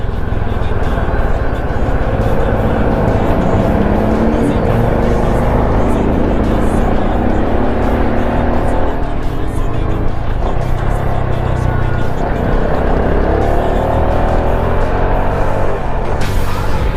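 Honda RS125 carbureted motorcycle engine droning steadily while riding through traffic, a continuous close hum with gentle rises and falls in pitch under constant wind rush.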